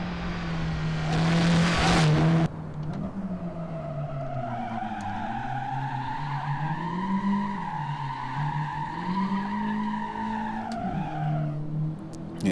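A Honda Civic Type R on a track hot lap, its engine droning steadily and rising and falling through the gears, with a loud tire squeal near the start, all close and continuous without talk.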